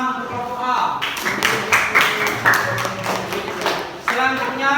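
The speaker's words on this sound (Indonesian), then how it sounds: "beri tepuk tangan untuk kelompok A." A classroom audience claps for a student group after its presentation: scattered, uneven claps for a few seconds, with speech just before and after.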